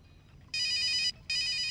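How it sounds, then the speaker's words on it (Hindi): A telephone rings in two bright electronic bursts separated by a short pause, loud and close over a quiet background. "भाई, दिल्ली से कुंदर परमार का फोन है।"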